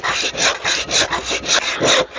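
A handsaw cuts through the end of a piece of reclaimed old wood with about eight quick, even rasping strokes, loud and close with no talking.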